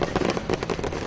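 Firecrackers set off during an outdoor village celebration in India, a dense run of sharp crackling pops and bangs with no gaps, loud and fairly close.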